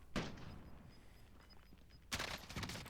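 Enemy gunfire in Warzone: two sharp bursts of shots, one at the start and a longer one near the end, with a quieter gap between them and no talk.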